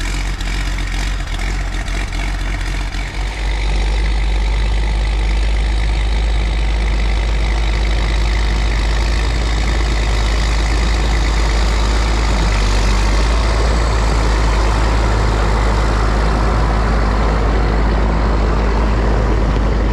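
Diesel snow groomer engine idles after a cold start, a loud, steady low rumble that holds for the whole stretch with a slight shift early on, no voices.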